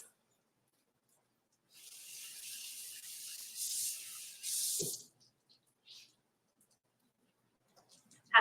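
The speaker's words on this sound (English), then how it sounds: "Now at this point, I'm just gonna give these a rinse" Peeled onions get a brief rinse under a running tap, a soft steady hiss of water lasting a few seconds, then quiet with a couple of small knocks.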